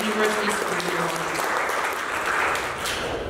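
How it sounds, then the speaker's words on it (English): Loud, dense applause from an audience at the Milwaukee Youth Poet Laureate competition finals greeting the third finalist, steady and continuous throughout. "please give another round of applause for our third and final finalist, Emily Igwike"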